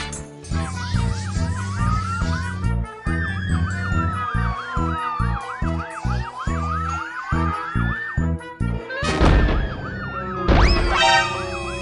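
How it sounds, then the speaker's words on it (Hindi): A loud cartoon police car siren wails and yelps in rising and falling sweeps, with a harsher burst of siren and traffic noise near the end. "पुलिस की गाड़ी"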